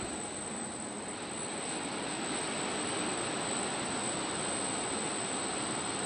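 A PowerWave power source running at 230 volts, 50 hertz gives a steady, loud broadband hum and rush with a thin constant high whine, unbroken and alone for the whole stretch.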